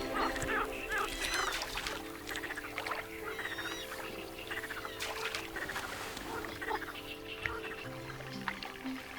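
Eurasian coots calling from spring reed beds, scattered short honking and squeaky calls at middle distance over a constant background of birds and water, with no speech.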